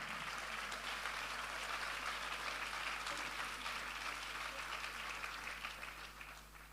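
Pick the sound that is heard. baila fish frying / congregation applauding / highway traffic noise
congregation applauding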